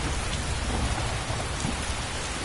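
Steady, dense rain hisses in Skyrim, the video game, a loud continuous wash of falling water with no voices.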